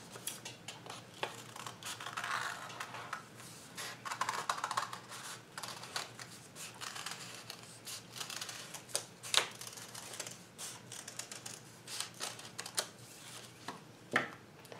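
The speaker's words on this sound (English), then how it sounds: "I'm going to take my scissors and I'm going to cut a circle" Scissors snip through folded paper to cut out a circle for toilet paper roll crafts, giving a string of quiet, close crisp clicks and crunches at an irregular rhythm with no talking.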